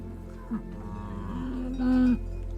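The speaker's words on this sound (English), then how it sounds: "Herds of Simmental cattle graze peacefully in the fields." Simmental cattle in a green Swiss meadow in the early morning let out a short low moo, then a longer drawn-out one, close and clear over a steady background hum.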